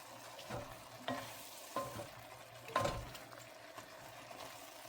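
Homemade tomato mac soup being stirred after spices go in, a spoon scraping and knocking in the pot over a low simmering sizzle, with several distinct stirring strokes spaced a second or so apart.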